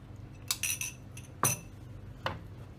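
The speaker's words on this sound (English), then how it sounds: "So just stir it again and add it straight in." Gelatine mixture stirred into cheesecake filling, a few sharp metallic clinks of a utensil against a bowl at irregular intervals over quiet room tone, close by and with no talk.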